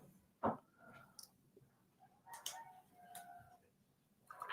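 A rooster crows from a distance in Bali, its call rising over faint outdoor ambience with a short burst of other bird calls; no one speaks.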